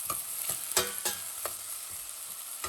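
Tomato upma is stirred in a frying pan, soft sizzling running throughout with a series of scraping spatula strokes at an uneven rhythm, close and fairly quiet.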